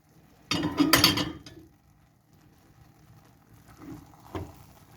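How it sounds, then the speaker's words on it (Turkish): A metal lid clanks down onto a pot of pea rice pilaf with a quick rattle, followed by faint kitchen clinks and a soft tap. "Şimdi ağzını kapatalım tenceremizi."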